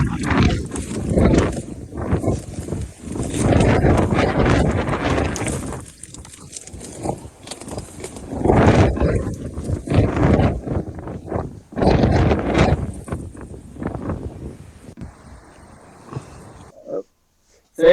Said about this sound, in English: So yeah, you can see it was quite windy